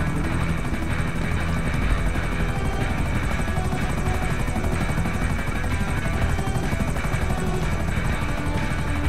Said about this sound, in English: Just have to be careful with big choppers like this.